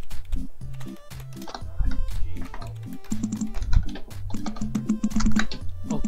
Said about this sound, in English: God, I can hear you guys type.